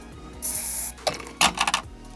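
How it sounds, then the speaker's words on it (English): A can of hairspray gives a short hissing burst into a jar of hot water, followed by a few sharp glassy clinks and taps of the jar and lid, all close and fairly loud. "take the hairspray and then spray it in there real quick"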